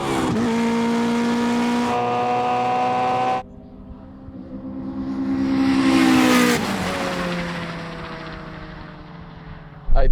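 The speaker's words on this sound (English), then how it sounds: "I was spinning the tires probably the whole first gear" Drag race car launching hard with its tires spinning through first gear, a loud sustained engine roar that cuts off abruptly, rises again into a high-revving surge, then drops away before a final burst.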